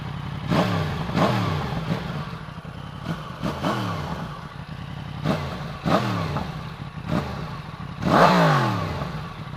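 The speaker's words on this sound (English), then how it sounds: "Big stock exhaust." A 2017 Yamaha MT-10 motorcycle with its big stock exhaust revs up and down repeatedly, each blip rising and falling in pitch, deep and fairly close.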